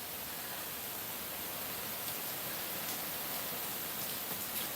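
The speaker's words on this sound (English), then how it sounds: "It is raining. It started raining kind of hard, actually." Hard rain pouring steadily outdoors, a dense even hiss with occasional sharper drop impacts, continuous and fairly close with no voices.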